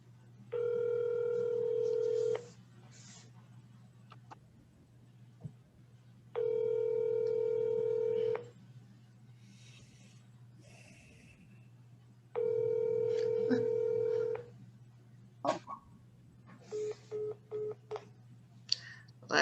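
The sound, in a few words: telephone dial tone and dialing a call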